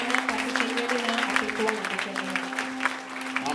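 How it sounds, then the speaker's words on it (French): A church congregation applauds and cheers in praise, dense continuous clapping with mixed voices and a steady tone beneath, sustained throughout. "J'aurais aimé qu'on acclame bien le Seigneur ce matin."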